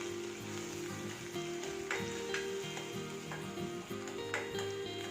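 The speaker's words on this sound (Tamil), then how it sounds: "இப்போ வெங்காயத்தை எண்ணெயில் நல்லா வதக்கி எடுத்துக்கலாம்" Onions sizzle and crackle steadily as they fry in oil in a pan, a continuous bubbling hiss with small pops, fairly quiet and without talk.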